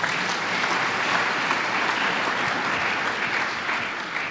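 A church congregation applauding, thick sustained clapping from many hands filling the room at a steady loud level throughout, without speech.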